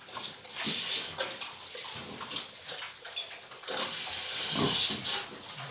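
A pig drinking from a water drinker: wet slurping and sucking with splashy bursts of water, close and uneven, without talking.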